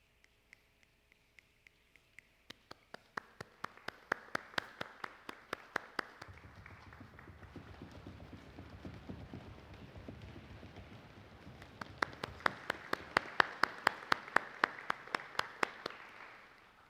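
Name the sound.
audience imitating rain sounds with their hands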